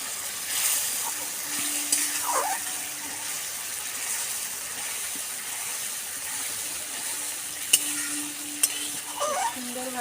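Spice masala frying in oil with a splash of water, a continuous low sizzle under occasional stirring scrapes and a few sharp clicks of a spoon against the pan, close and moderately loud.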